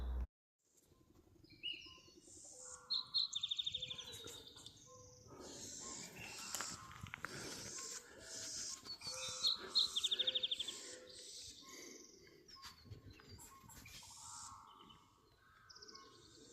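Several birds chirp and call outdoors along a hiking area near Payson, a mix of high tweets and repeated notes from varied distances, fairly faint over soft background noise.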